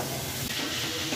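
Boiled chickpeas sizzle in hot masala in a pan, giving a steady, loud hiss throughout with no pauses and no voices.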